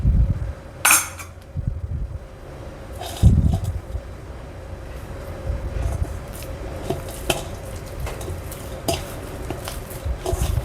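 Bakpao dough being kneaded by hand in a home kitchen, with soft irregular thumps, squishes and occasional clinks of a bowl or utensil, close by and without talk.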